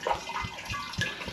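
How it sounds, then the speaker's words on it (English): Homemade gooseberry and apple wine is poured steadily into a glass demijohn, a continuous close liquid splashing and gurgling with small surges, no voices. "I'm going to pour it from there into there, and then from there back into there."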